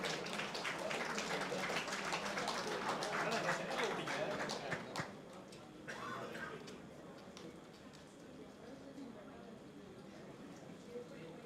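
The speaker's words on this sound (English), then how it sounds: "let's give a round of applause to the final segment of the day" An audience at a React developer meetup in Chennai breaks into a round of applause, dense clapping that holds strong for several seconds, then thins and fades into scattered claps and quiet room noise.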